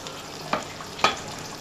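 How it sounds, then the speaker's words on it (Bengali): Spicy fish curry masala sautés in a pan under a soft, constant sizzle, broken by two sharp spatula scrapes about half a second apart, with no voices. "আর একটু কষিয়ে নিব বন্ধুরা"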